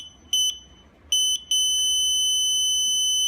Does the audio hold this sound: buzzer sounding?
yes